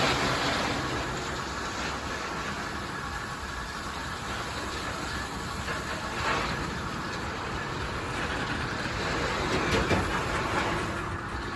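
An HO scale model coal unit train made up of identical cars rolls past a flood loader, giving a steady, continuous clatter with soft rhythmic clicks and a faint mechanical hum throughout, no voices.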